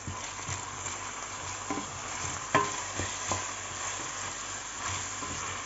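Garlic-ginger paste sizzles in a hot pan as a spoon stirs it, a soft steady frying hiss broken by a few scraping clicks and taps against the pan.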